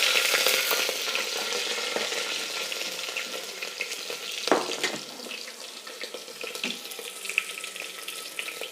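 Cardamom pods, cloves and cut green chilies fry in oil over a low flame, giving a steady soft sizzle with occasional stirring scrapes and clicks, fairly close and without talk.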